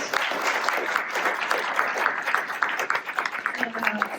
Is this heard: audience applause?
yes